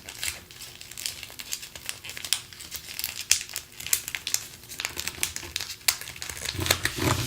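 Crisp paper crinkles and creases as it is folded into a four-pointed ninja star, close and fairly quiet, with repeated short crackling bursts and sharp snaps in an uneven rhythm, no talk.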